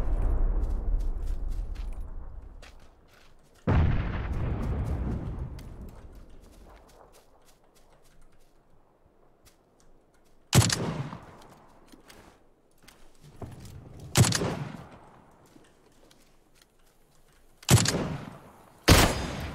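Gunfire in PUBG on the Sanhok map during a duo match, with several sharp loud shots and short bursts separated by quiet gaps, each followed by a decaying echo, plus faint footstep sounds between them.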